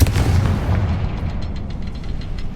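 A fire spell explodes in Hogwarts Legacy, a heavy booming blast that rolls into a dense, crackling rumble and slowly decays over a couple of seconds.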